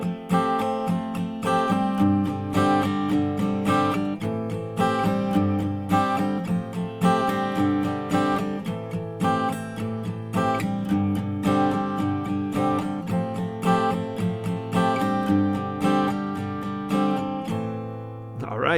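Strummed guitar plays chord rounds three through five of a song, a steady, driving rhythm of chords that continues unbroken and moderately loud, with no talking.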